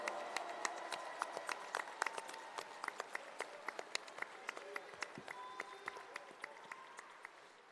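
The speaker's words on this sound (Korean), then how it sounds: "이 두 분을 위해서 힘찬 박수 보내주십시오" A crowd at a Democratic Party convention claps steadily for two candidates, a dense wash of applause with sharp individual claps throughout, heard at moderate distance.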